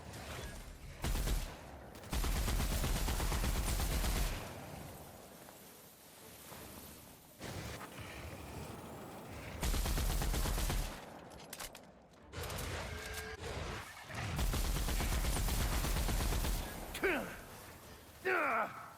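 Gunfire erupts in the video game Outer Worlds, heavy bursts of shots and fusillades in several loud clusters separated by calmer stretches, with character voices and chatter between them.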